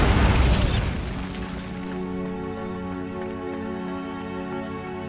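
A Bombarda blasting spell explodes in Hogwarts Legacy with a loud booming burst that decays into a long, ringing, shimmering tail.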